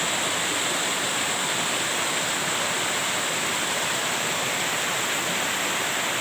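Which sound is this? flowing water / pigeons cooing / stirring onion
flowing water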